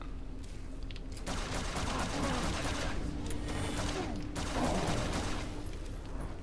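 A grenade explodes in a 2013 side-scrolling action game, heard as rumbling blasts and crackling bursts over steady background game noise, with a heavier surge near the end and no talking.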